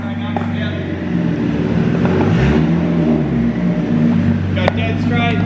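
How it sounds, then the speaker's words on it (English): Turbocharged Nissan R32 drift car engine revving up with a steady loud drone and rising pitch, heard from inside the car, with a voice talking over it. "Yeah, I'm liking the sound of this turbo."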